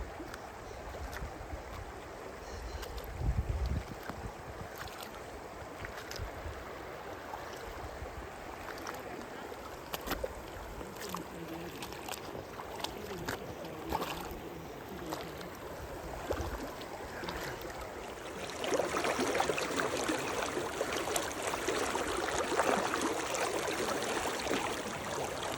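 Evolution Creek on the John Muir Trail, a mountain stream forded by hikers, rushing steadily throughout with splashing and sloshing from wading bodies, growing louder and brighter near the end; occasional voices murmur beneath.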